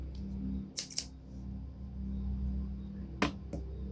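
Scissors snipping through chunky knitting yarn, with two quick sharp cuts near the start and two more a couple of seconds later, heard close against a low steady hum.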